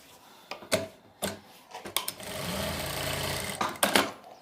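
Sewing machine stitching salwar fabric at a tailor's, in short separate bursts with sharp clicks between them, then one longer steady run of stitching in the middle, fairly quiet overall.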